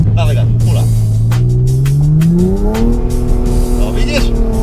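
A BMW launches with a clutch dump: the engine revs up loud and close, then the pitch climbs steadily as the wheels spin and tires squeal, with people talking over it.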